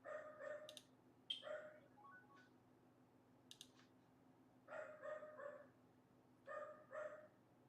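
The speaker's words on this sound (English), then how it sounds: "You hear my dog barking." A dog barks repeatedly in a home while a poker game is played, sharp yips and barks coming in bursts with whimpering between, moderately close over a steady background hum.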